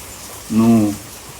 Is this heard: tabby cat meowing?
no